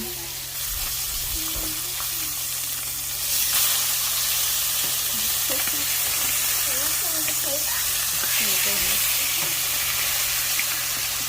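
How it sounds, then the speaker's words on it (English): Salmon fillets frying in melted butter in a pan give a steady, close sizzle and crackle throughout, brightening slightly partway through, with no speech. "Once your butter's nicely melted, you add your salmon."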